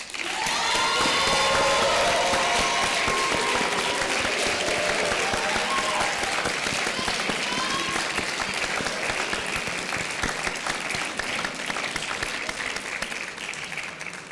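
Sustained audience applause fills a hall as a high school senior is welcomed onto a stage, dense clapping holding steady and loud throughout with a faint trace of cheering mixed in.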